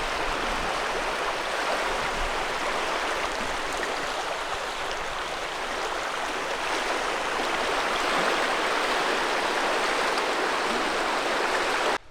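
A mountain stream by a campsite flows in a steady, loud broadband rush of water that continues unbroken, with no voices over it.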